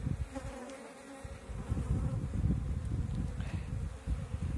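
Honey bees buzz densely around an open hive frame during a queen cell inspection, a steady, close, continuous hum with no voices.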